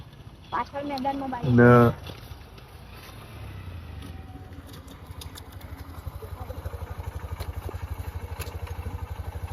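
A motorcycle ridden by a learner, its engine a low, steady rumble that grows into a rhythmic pulsing chug, with brief voices at the start.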